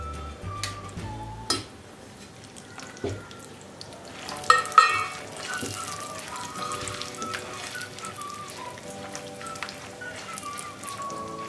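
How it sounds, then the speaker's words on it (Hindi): Dry fruits frying in melted ghee (two spoons), a soft steady sizzle with occasional stirring clinks and scrapes, close and moderate in level, no voices. "घी मेल्ट होते ही पहले जो ड्राई फ्रूट्स लिया वो ऐड कर देती हूँ"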